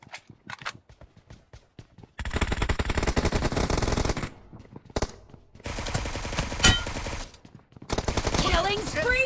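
Suppressed QBZ rifle fire in PUBG Mobile, sharp clicks at first, then dense rapid automatic bursts in several long strings separated by short pauses, loud and close.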